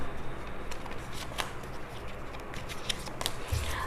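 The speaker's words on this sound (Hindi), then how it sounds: "एक करंट फीलिंग्स के लिए कार्ड्स निकालते हैं" Tarot cards being shuffled and drawn by hand, a steady papery riffle with scattered crisp flicks and snaps, close and continuous with no talking.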